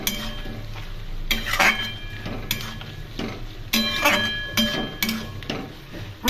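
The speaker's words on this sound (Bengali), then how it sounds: "এখন খুব ভালো করে এই মশলা তরকারির সাথে নেড়ে নেড়ে কষিয়ে নেব।" Spiced pumpkin and prawn curry being stirred and fried in a pan, repeated metallic spoon clanks against the pot over a soft sizzle, in an irregular rhythm, no voices.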